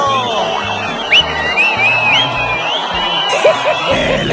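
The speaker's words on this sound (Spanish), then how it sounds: "¡Vaya abucheo el que le recetaron al Thundercat allá en Jalisco!" A crowd boos the politician known as Thundercat at a campaign event in Jalisco, a loud, steady mass of jeering voices dotted with whoops, whistles and shouts rising above the din.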